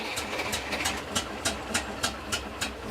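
Restored WWII half-track engine at full throttle, a steady mechanical drone with regular sharp rhythmic knocks, close and continuous, with no voices.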